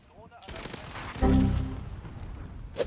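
RAM-7 assault rifle fire in Modern Warfare multiplayer: rapid automatic bursts, with a loud, dense stretch of shots in the middle that trails off, and someone speaking German over the action.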